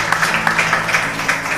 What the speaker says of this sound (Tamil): இப்ப கைத்தட்டு எல்லாரும்